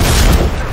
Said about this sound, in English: Oh no, not grenade!